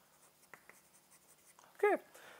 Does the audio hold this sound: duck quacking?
no